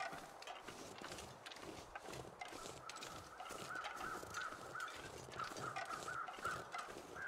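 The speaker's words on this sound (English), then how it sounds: "I hear and see crows" Crows cawing in the video game The Long Dark, harsh repeated calls over a busy background of in-game ambience and noise, moderately loud and fairly continuous.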